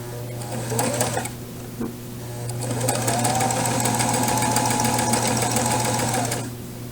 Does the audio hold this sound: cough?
no